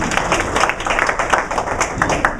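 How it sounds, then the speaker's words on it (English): Audience applause at a guest speaker talk at Georgia State, dense steady clapping from a crowd filling the whole moment, close and fairly loud. "Everybody give them a round of applause"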